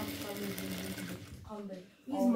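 A sewing machine stitches a zippered pillowcase, running in a fast, even whir that slows and stops briefly before starting again, up close, while someone talks over it.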